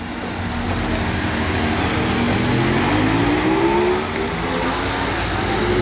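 A Mercedes-AMG One supercar at night in Monaco, its engine a steady loud drone with a rising pitch sweep near the middle as it accelerates, set against continuous street noise.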